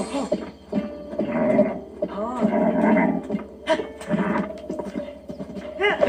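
A horse clip-clops at a gallop in Zelda: Breath of the Wild, hoofbeats steady and close with occasional neighs, alongside someone talking over the game audio.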